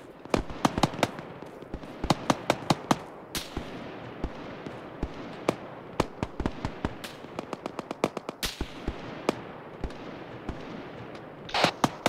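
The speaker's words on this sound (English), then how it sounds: "what's the shots I keep hearing to the south?" Sharp cracks of airsoft gunfire sound from some distance on an outdoor field during an airsoft game, coming as irregular single shots and quick clusters across the whole stretch, with no talking.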